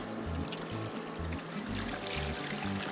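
Cold water pours steadily into a cooking pot holding turkey giblets with salt, pepper and garlic, a continuous close trickling stream with no talk.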